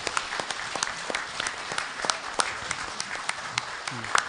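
Audience applause at a press club guest forum honoring professional golfer Choi Kyung-ju, dense steady clapping throughout with sharp individual claps standing out, moderately close, with faint voices underneath.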